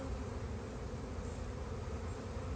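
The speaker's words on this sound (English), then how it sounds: "very, very full of bees, this hive" Dense, steady buzzing of honeybees packed into a full spring hive of double deep boxes with ten frames each, a continuous close drone with no voices.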